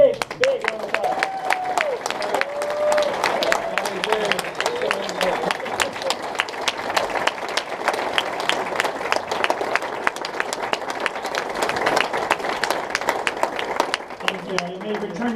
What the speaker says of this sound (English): let's give him a big, big round of applause